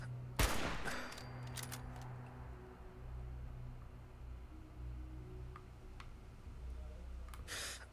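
Gunfire in the Fallout 4 survival mode game opens with a sharp close shot, followed by scattered clicks and distant cracks over a steady low rumble.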